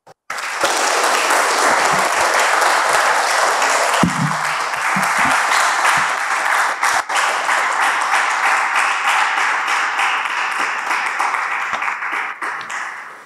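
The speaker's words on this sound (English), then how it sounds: "So with a round of applause, let us welcome our guest speaker, Professor Pierre Laporte." A sustained wave of audience applause at a leadership session welcomes a guest speaker: dense, steady clapping from a large crowd for about twelve seconds, slowly fading near the end.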